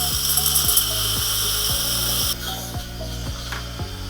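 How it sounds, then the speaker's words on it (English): A dental implant pilot drill runs with a steady high whine while a rhythmic ticking repeats about every half second, then the whine drops away, close and continuous. "So after I do my pilot drill,"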